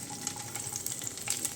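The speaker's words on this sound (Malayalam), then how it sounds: "ഇതിലേക്ക് നമ്മളെടുത്ത് വെച്ച മുളക് ഇട്ട് കൊടുക്കാം." Red chillies fry in hot oil with a continuous crackling sizzle. It is a fairly quiet, close sound with no voices.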